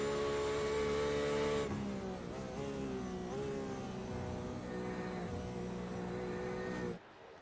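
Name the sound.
race car engine at Le Mans in the video game iRacing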